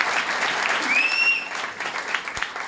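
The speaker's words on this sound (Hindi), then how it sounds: "आपको एक बार जोरदार ताली उनके लिए।" Audience at a network marketing meeting applauds, a dense continuous wash of clapping heard up close and fairly loud, with a short whistle partway through.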